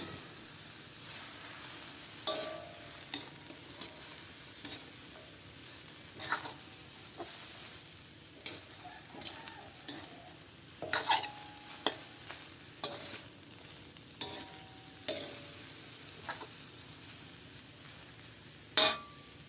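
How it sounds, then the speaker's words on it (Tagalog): Papaya and shrimp are stirred in a sizzling pan for ginataang papaya: a soft continuous frying hiss is broken by repeated scraping and clacking strokes of a spatula, irregular and close, with no voices. "haluin lang natin"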